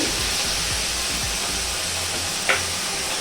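Onion, tomato and chilli tempering with asafoetida sizzles in hot oil as a loud, steady broadband hiss, with a brief stir-like clink near the end and no talk.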